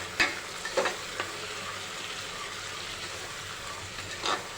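Pigeon peas and papdi bean seeds are mixed in a pan with chopped chori beans for Surat-style green undhiyu. A faint, steady sizzle sits under a few sharp spoon knocks and scrapes near the start and end, with no talking.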